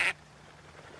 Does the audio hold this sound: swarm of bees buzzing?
no